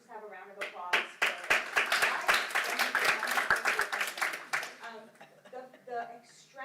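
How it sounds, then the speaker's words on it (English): Audience at a 2019 conference on generational views of Israel breaks into applause, a dense burst of clapping swelling for several seconds and then thinning out, with voices speaking over it near the start and again as it fades. "So let's just have a round of applause for"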